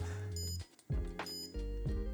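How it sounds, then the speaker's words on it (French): Repeated electronic beeps from an iGPSPORT iGS630 bike GPS unit, steady high tones broken by short gaps, fairly loud and harsh, with a low hum underneath and no talking. "oh c'est atroce ce bip"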